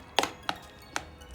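A knife chops avocados mixed with garlic powder against a cutting board, four crisp, evenly spaced thunks close by, with no talking.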